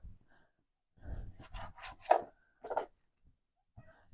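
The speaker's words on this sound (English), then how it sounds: "So I would cut it into strips, which is what I'm doing." A knife slices cooked beef into strips on a board: a few distinct, quiet cutting strokes, short scrapes spaced apart with near silence between them.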